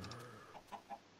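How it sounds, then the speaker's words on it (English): A chicken in the video game Minecraft gives two or three short, soft clucks in quick succession, faint and fairly distant with no talk over them. "I see you, chicken."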